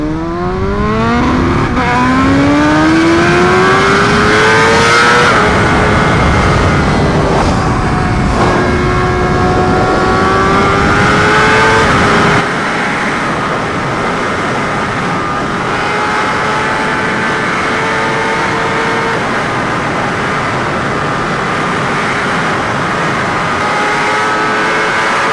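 BMW HP4 motorcycle fitted with an SC Project exhaust running hard at speed, its loud engine note rising steadily through the gears in long sweeping pulls, close and continuous with wind roar.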